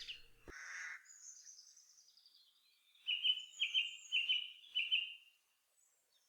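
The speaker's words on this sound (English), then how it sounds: "we're amongst the birds and under the trees, the canopy of Mametz Wood" Woodland birds sing beneath the tree canopy of Mametz Wood on the Somme: a few high chirps, then a clear series of four or five bright repeated song phrases, fairly close in an otherwise quiet wood.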